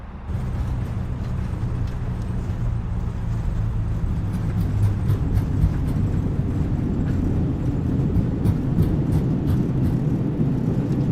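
Thrust reversers of an Airbus A320 on landing in Microsoft Flight Simulator give a loud, steady low roar that swells in at the start and holds, with rumbling and small clicks over the top.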